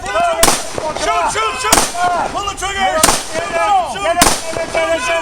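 Gunfire during SWAT academy training, four sharp loud shots spaced about a second apart, each cutting through a busy background of shouting trainees.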